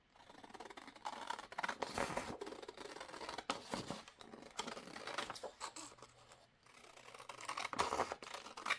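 Scissors snip through a card, cutting it in half with a run of close, crisp crunching cuts and short pauses between strokes, no voices.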